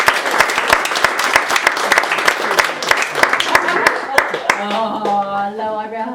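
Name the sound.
audience applause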